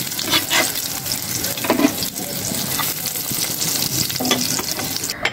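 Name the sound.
fish kofta frying in oil in a pan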